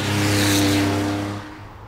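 A Porsche 911 Carrera RS 2.7 accelerating, a close, loud engine note with a strong rising harmonic tone that holds briefly, then eases off within two seconds.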